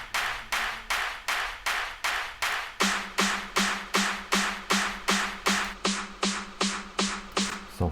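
Electronic clap samples from a hyper techno track repeat in a steady, evenly spaced pulse about twice a second, punchy and bright, with a low tonal layer joining the loop midway.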